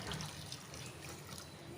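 Hot water poured into a cooking pot while making ghee rice with mutton curry, a steady soft splashing stream under a broad hiss, with no talk.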